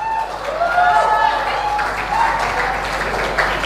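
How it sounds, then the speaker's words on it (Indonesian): An audience at the Harmoni Museum 2025 event claps together in a full, even round of applause lasting several seconds, with voices mingling in the crowd noise. "Tepuk tangan untuk kita semua."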